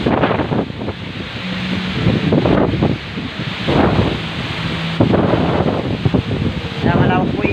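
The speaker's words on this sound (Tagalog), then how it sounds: "Lakas ng ulan, saka hangin." Strong wind and heavy rain from Super Typhoon Goring sweep beside a river with boats, roaring in gusts that buffet the microphone, with someone talking over the noise.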